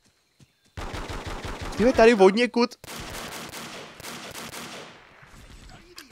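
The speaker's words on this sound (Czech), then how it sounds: "Jenom dvě rány, jo, ti stačily." Gunfire in the Vietnam War shooter Vietcong: a dense burst of rapid shots, with a voice talking over part of it and other game sounds continuing after the firing ends.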